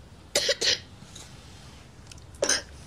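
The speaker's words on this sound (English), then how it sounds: "You've got a bit of a cough, haven't you?" A child gives a quick pair of small coughs followed by a single cough a moment later, close and fairly soft against a quiet room.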